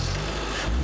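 A Honda Civic HFP's 2.4-litre four-cylinder engine accelerating, a brief, steady mid-pitched drone of a car under load heard close and alone.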